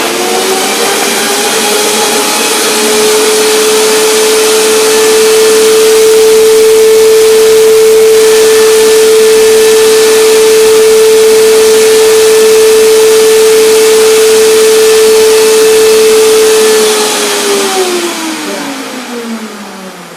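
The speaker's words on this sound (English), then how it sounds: "Take some time for a power blender to come down." A powerful countertop blender whirs nonstop at a loud, steady high speed for most of the time while making a chocolate hazelnut cherry banana bowl, then spins down at the end.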